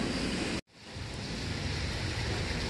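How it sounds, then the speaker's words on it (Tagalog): Floodwater in a flooded subdivision in Cebu, Philippines, rushes as a steady broadband wash, loud and continuous, briefly cut out near the start before the water sound resumes. "Grabe yung baha na talaga dito."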